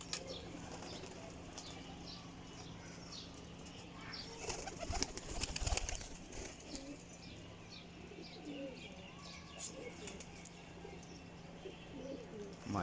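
Pigeons coo softly in a breeder's loft among fluttering and faint chirps, with a brief burst of wing flapping near the middle over a low constant hum.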